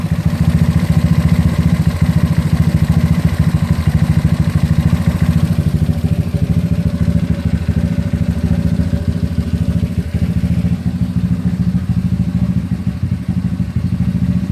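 A GY6 scooter engine fitted with an OKO PWK 30mm carburetor idles steadily and loudly close by, with a constant low throbbing drone and a light mechanical clatter throughout.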